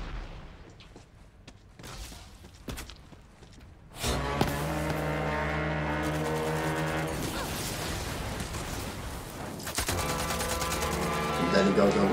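Assault rifle fire in Borderlands 3: after a few sparse early shots, sustained rapid automatic bursts begin and run loud and dense to the end, layered with droning tonal game effects.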